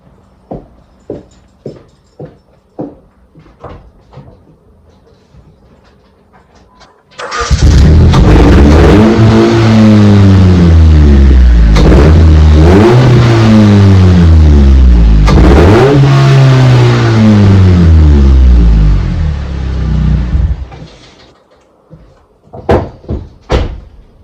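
A few clicks and clunks come first, then a large truck engine with a side-stack exhaust cranks and roars to life, revving up and down twice loudly before shutting off, followed by more clunks.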